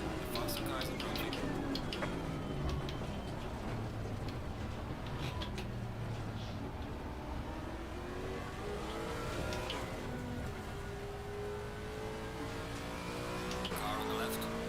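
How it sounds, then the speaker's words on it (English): Several GT3 race cars at Spa-Francorchamps in a racing video game, engines droning and shifting pitch as they close in and pass, with a steady loud mechanical roar and talk running over it. "Faster cars approaching."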